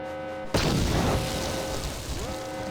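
A grenade goes off in Star Wars: Knights of the Old Republic aboard the Endar Spire. There is one sudden, loud blast, then a long rumbling decay with crackling debris. Game music or hum runs underneath.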